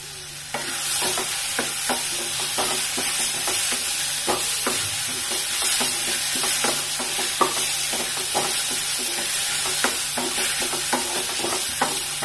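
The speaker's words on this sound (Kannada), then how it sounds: "ಸಾಕಿನ ಫ್ರೈ ಆಗೈತಿ, ಇನ್ನೇನು ಜಾಸ್ತಿ ಫ್ರೈ ಮಾಡುವಂಗಿಲ್ಲ" Green chillies and white sesame seeds fry in a pan under a continuous hiss, while a spatula scrapes and taps in a regular rhythm throughout.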